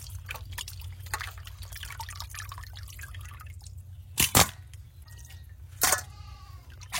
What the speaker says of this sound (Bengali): ধুয়ে নেবো মাছগুলো